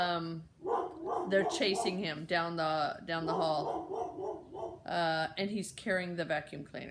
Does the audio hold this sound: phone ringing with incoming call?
no